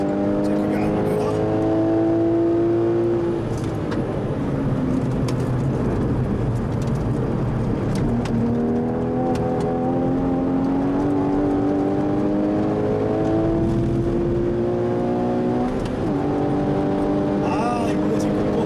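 A manual Porsche 981 Cayman accelerates hard around the Inje Speedium race track, its engine note climbing steadily and shifting through gears in a loud, continuous in-car roar.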